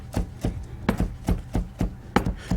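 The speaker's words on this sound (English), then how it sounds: "I'm going to cut some fresh herbs" A knife chops fresh parsley on a cutting board with a steady run of about eight close, crisp thuds at an even pace, with no speech.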